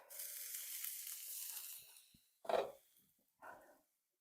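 Potatoes and bell peppers sizzle in an oven-safe skillet, a quiet hiss that fades out, followed by two short scraping stirs, close and faint with no speech.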